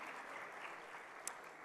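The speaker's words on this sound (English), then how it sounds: "Another round of applause for my friend John Kuma." An audience at an inter-generational dialogue in Accra gives a steady round of clapping that holds at an even, fairly distant level, with one sharper clap standing out near the end.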